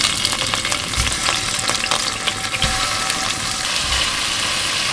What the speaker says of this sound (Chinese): 如果你要学煎豆腐的话，你可以先从板豆腐开始